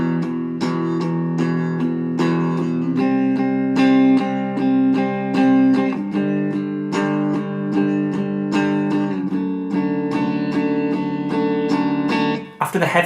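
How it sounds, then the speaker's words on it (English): Distorted electric guitar chugs through the heavy section of a song, thick sustained power chords changing every couple of seconds, loud and continuous with no voice over it. "The next element to be introduced is the distortion part."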